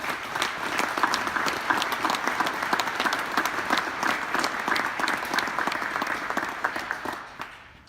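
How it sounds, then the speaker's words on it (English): At an Army retirement ceremony, the audience gives a warm round of applause for soldiers' families, many hands clapping steadily at a moderate distance before the sound fades out near the end. "Please join me in a round of applause for our great families."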